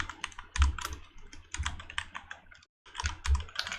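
Someone types on a computer keyboard: quick, close clusters of light key clicks in short bursts, with one brief pause before the tapping resumes.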